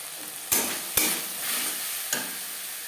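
Tomato, ginger paste, green chilli paste and fried spices sizzle steadily in a pan for a fish curry, with a few sharp scraping stirs of a spoon cutting through the hiss.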